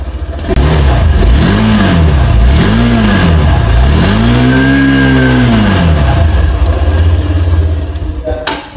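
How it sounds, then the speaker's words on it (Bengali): A 2025 Hero Xtreme 160 2V motorcycle's exhaust, close and loud, revs in three quick blips, then one longer, higher rev that rises and falls before settling back to a steady idle. "তো এবার 2Bর এক্সস্ট সাউন্ডটা"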